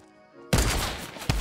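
Gunshots in the video game Fortnite Battle Royale: a soft tonal background suddenly gives way to a loud, close blast, followed a moment later by a second sharp shot.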